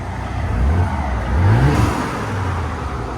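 A 2021 Audi S4 with a 3.0L turbo V6, an X pipe fitted and the mid muffler deleted, gives two close, loud revs, its exhaust note rising and falling with a deep idle rumble between.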